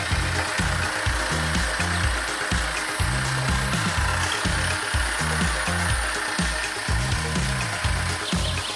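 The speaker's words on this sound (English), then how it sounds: "the excavator with an engine of more than 200 horsepower refused to give in" An excavator with an engine of over 200 horsepower runs steadily, its heavy diesel drone pulsing in a rough, repeating rhythm with mechanical rattle, loud and close, no voices.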